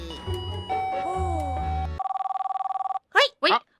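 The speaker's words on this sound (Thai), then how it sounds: "โทรศัพท์มาอีกแล้วฉันไม่กล้ารับอ่ะ" A telephone rings in a Roblox ice cream shop game, with a steady rapid electronic trill lasting about a second, then two short chirpy tones, after game music and speech.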